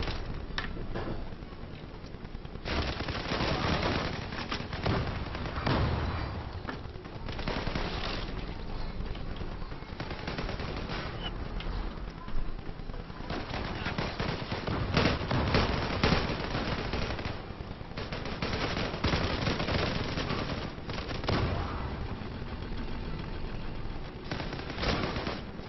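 Gunfire in the Zula shooter on a ship map, dense rapid automatic bursts rattling almost nonstop over a constant wind and water-like rush, loud and close.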